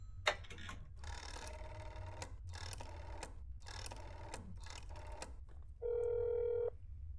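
A phone in the video game That's Not My Neighbor rings in repeated short bursts with gaps between them, close and clear, ending with a sustained dial tone.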